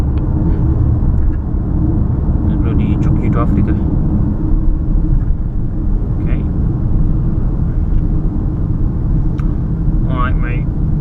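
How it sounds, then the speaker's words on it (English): Heavy wind roar buffets through the open windows of a Mercedes-Benz GLB petrol hybrid on the move, a steady loud rumble with people talking over it. "The window is so bloody windy. I think it was all the wind noise."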